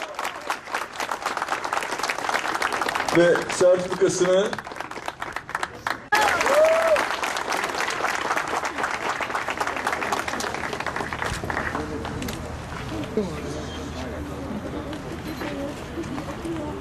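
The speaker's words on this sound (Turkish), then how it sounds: "Büyük alkış arkadaşlar." Applause at an event held with disabled people, with crowd clapping under a presenter's voice over a loudspeaker. Short bursts and shifting noise follow before the sound thins into a steadier background murmur.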